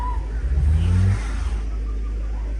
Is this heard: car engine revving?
yes